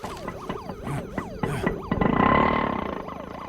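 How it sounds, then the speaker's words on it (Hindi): A police siren wails in rapid rising and falling sweeps during a dramatic action-film scene, loud and repeated before a heavier roaring wash takes over near the end. "पुलिस का सायरन है, अभी निकल"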